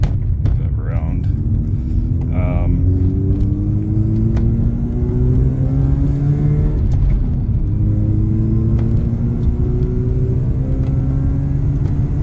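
A Mazda RX8 R3 with a rotary engine accelerates through several gears, each rising engine pitch sweep repeating under a constant road rumble from inside the cabin, with brief talk early on.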